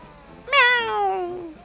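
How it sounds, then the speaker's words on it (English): A single cat lets out one clear, drawn-out meow that starts sharply and slides downward in pitch, close and distinct over a quiet background. "we have a cat riding another cat"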